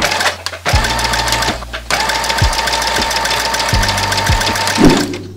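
A sewing machine stitches elastic onto a bikini swimsuit piece, running in a loud, steady whir with regular mechanical thumps and a brief pause partway through; nobody speaks.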